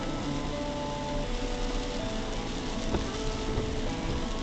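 Steady rain hisses on a surface, a dense continuous wash of drops without pauses or voices.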